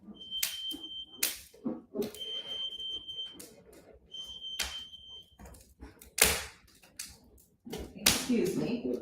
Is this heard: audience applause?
no